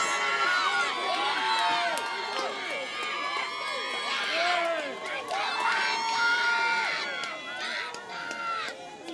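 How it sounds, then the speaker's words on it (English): Baseball crowd at a Tom Sox game cheering and shouting, a dense mix of whoops, children's yells and excited voices swelling in waves, loud and continuous throughout. "get loud, get rowdy, stand up, and cheer on the Tom Sox"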